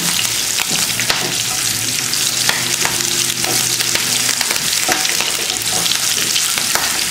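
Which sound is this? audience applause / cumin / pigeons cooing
cumin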